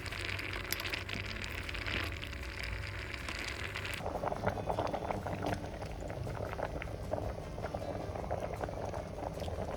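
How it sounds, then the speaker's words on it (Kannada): Malabar spinach curry (basale saaru) with masala bubbles steadily in a pot, a dense, continuous simmering crackle that grows busier partway through. "ಈಗ ಮಸಾಲೆ ಸ್ವಲ್ಪ ಒಂದು ಸರಿ ಕುದಿದ್ರೆ ಸೆಟ್ ಆಗುತ್ತೆ"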